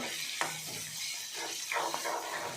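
Onions fry to a brown color in a pan for sambar, a soft, quiet sizzle with a few light scrapes and taps of stirring over a short stretch, no talking.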